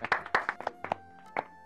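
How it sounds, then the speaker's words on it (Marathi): A few hands clap in a brief ragged burst of about ten claps at an uneven rhythm, close and moderately loud, ending after less than two seconds with no voices over it. "आणि टाळ्या टाळ्या."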